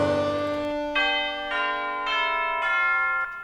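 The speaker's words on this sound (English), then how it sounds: "got some bells down here" Bells ringing in a music track, several struck tones sounding with rich, sustained ringing overtones, new strikes entering about every half second and layering over one another without any talking.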